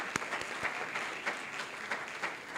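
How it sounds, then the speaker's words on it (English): Fairly quiet applause from a summit audience in a hall, a spread of scattered claps forming a soft, continuous patter with a few sharper individual hits, no voices. "Give ourselves a big clap."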